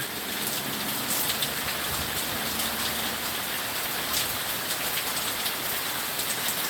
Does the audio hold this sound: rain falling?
yes